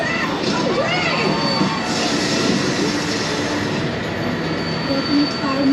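A tour tram rumbles past with rolling wheel noise and faint squeals at Universal Studios Los Angeles backlot, while a crowd and voices carry on around it.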